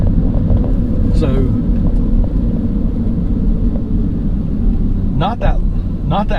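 A Chevy 5500 single-axle dump truck with a 6.6 liter Duramax diesel runs steadily and loud throughout, a continuous low rumble close by, with brief faint voices over it.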